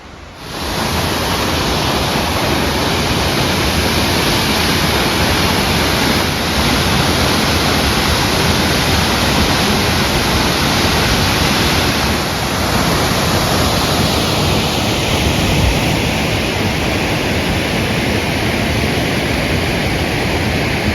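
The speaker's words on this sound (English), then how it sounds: "I think I can hear the waterfall already." A waterfall in a Strathcona Park forest in October roars as a steady, loud, broadband rush of falling water, continuous and unbroken for the whole stretch with no voices over it.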